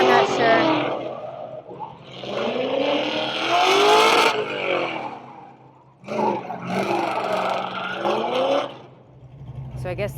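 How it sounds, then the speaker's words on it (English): A drift car warming up its tires at the Holley LS Fest West 2024 event: two long, loud roaring bursts of revving engine with rising and falling pitch, separated by a brief lull, close to the listener. "This person, I think, might be warming up their tires."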